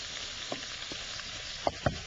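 Shrimp risotto with fennel and caramelized pearl onions is stirred in a pan over a soft steady sizzle, with a few distinct spoon scrapes and knocks near the end.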